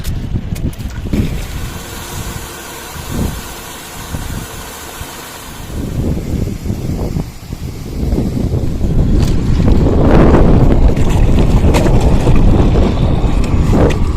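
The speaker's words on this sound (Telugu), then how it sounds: "గాలి అయితే చాలా ఎక్కువగా ఉందన్నమాట" Strong wind blows outdoors beside shrimp ponds, buffeting the microphone with a loud, rough roar that builds and grows heavier toward the end, with a low engine-like drone underneath.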